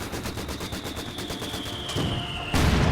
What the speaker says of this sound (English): these guys fire pretty fast also